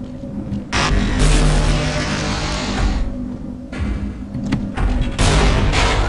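In the video game Half-Life, a grenade is thrown and explodes, giving several loud, broad booming bursts separated by short lulls and layered over a continuous game-sound rumble.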